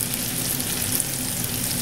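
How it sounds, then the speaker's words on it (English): A sirloin steak topped with onions, mushrooms and cheese sizzles loudly in a very hot pan, a close, steady crackling hiss with no talk. "this sizzling is just straight from this pan"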